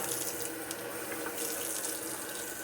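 Water poured from a coffee mug into a measuring container, a steady close trickle and splash running throughout without pause.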